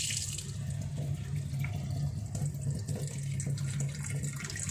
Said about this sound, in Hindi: गश करके पानी बाहर आ रहा है, गशिंग साउंड।